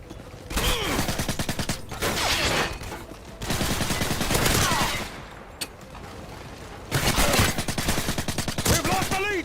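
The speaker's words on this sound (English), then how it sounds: "despite it being an SMG and despite it being suppressed, the firing sound was actually kind of thunderous" A suppressed SMG fires in a Call of Duty video game, with several rapid bursts of thunderous, heavy gunfire separated by short pauses and mechanical clicks, fairly close and loud.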